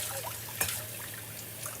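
Water trickles and splashes steadily into a glass for about two seconds, fairly quiet, with a brief brighter splash partway through.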